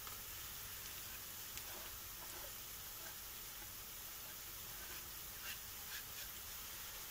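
Onions and carrots sizzle and fry steadily in a hot pan, a constant close hiss with occasional small pops and stirring scrapes.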